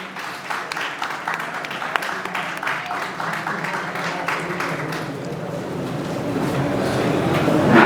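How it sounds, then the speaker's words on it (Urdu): Audience at a press club conference in Lahore claps steadily and continuously, a dense wash of applause that swells toward the end. "ان کے لیے بھرپور تالیاں"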